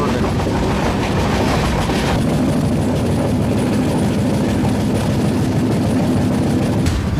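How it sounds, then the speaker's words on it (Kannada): A Yesvantpur–Vijayapura special fare special train passes close by, its steady loud rumble and wheel clatter filling the whole stretch without a break. "ಯಶವಂತಪುರದಿಂದ ವಿಜಯಪುರ ಹೋಗುವಂಥ Yeshwanthpur Vijayapura special fair special"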